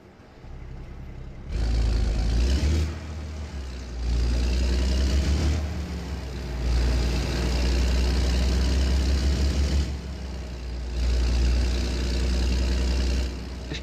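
Kenworth W900 truck engine in a driving game, heavily rumbling and idling, then rising and falling in a few repeated revving surges, close and steady with no talk.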